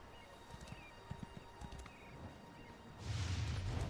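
Horse hooves from the video game Counter-Strike clip-clop at a steady walking pace, fairly quiet, before a broad hiss of noise swells in near the end.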